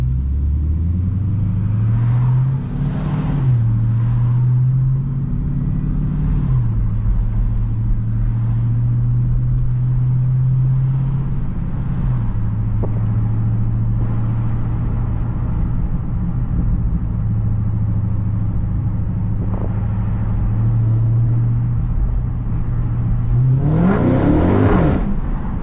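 A Dodge Hellcat's engine rumbles loudly at a steady idle, with several sharp revs that rise and fall, including a hard rev near the end; no talk.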